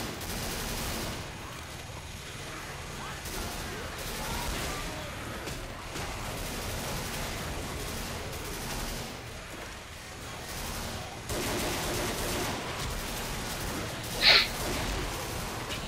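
Sustained gunfire from shooting zombies in the video game Left 4 Dead, a dense continuous fusillade at steady loudness across the whole stretch, with a brief louder burst near the end.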